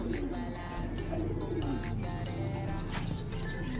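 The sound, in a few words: pigeon landing and cooing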